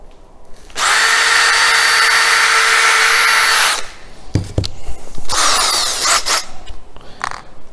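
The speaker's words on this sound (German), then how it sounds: "Dann kann ich mit aller Ruhe erstmal vorbohren." An electric drill pre-drills a wooden furniture front in a camper conversion, running in one steady loud burst of about three seconds, followed by a few shorter whirs and clatters close by, no talking.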